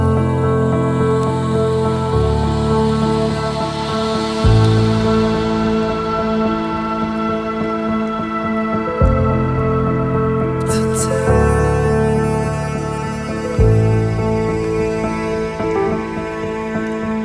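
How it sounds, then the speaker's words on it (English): Ambient soundscape pad built from raw audio, layering sustained piano chords over a rain-like hiss, with slow chord changes every few seconds and a bright cymbal swell rising in the middle. "There's a piano and the rain, and also a cymbal swell"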